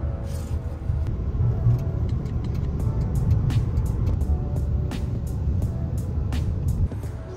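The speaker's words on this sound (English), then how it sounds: "Oh, it's a really nice car, air conditioned." Steady interior rumble of an air-conditioned car on a ride across town in Vientiane, Laos, a low continuous drone with faint clicks and ticks on top and no talking.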